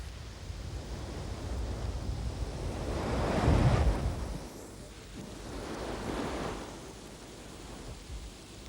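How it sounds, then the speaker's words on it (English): Choppy open Atlantic waves roll under blowing wind as a storm brews. Two broad surges swell and fade over a constant rushing background, all fairly faint. "As she sets out to the open sea, the water is becoming choppy."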